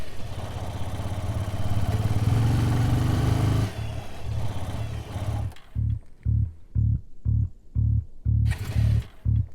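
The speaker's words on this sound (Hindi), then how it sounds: "पेट्रोल तो है, फिर भी बाइक बंद हो गई।" A motorbike engine in an action film runs with a loud, steady rumble, then falters into a string of short, regular sputtering bursts separated by gaps as it stalls and fails to keep running.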